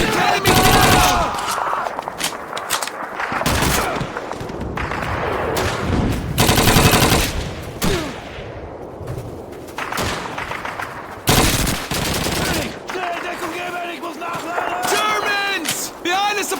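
Dense World War II battle gunfire from the Call of Duty 2 Rhine crossing, with rapid machine-gun bursts and rifle shots rattling close and far, broken by heavy bangs, while soldiers shout over the fighting.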